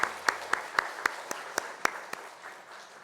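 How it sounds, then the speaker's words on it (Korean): A church congregation at a Sunday afternoon praise service gives applause that comes as a series of distinct, evenly paced loud claps over a softer background of hands. The claps thin out and fade near the end. "우리도 하나님께 영광의 박수를 드리겠습니다."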